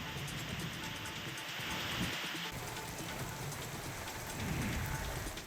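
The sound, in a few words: rain falling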